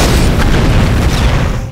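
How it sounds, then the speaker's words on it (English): Massive explosion of a motorbike fuel tank struck by gunfire, a loud, sustained broadband boom that roars at full strength for nearly two seconds before cutting off. "causing a massive explosion."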